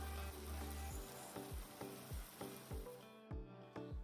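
Tomatoes fry in a karahi with a continuous close sizzle, overlaid by regular soft thuds and scrapes from stirring, about two per second.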